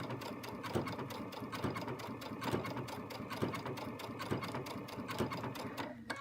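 Sewing machine stitching through the top and lower layers of fabric in steady rapid bursts of needle strikes, a continuous mechanical whir with regular rhythmic accents, fairly close, stopping briefly at the end.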